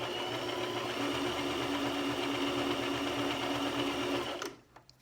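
A domestic sewing machine stitches a fabric face mask close to the elastic, running in a steady fast mechanical whir with rhythmic needle pulses for about four seconds before stopping abruptly, followed by a couple of faint clicks.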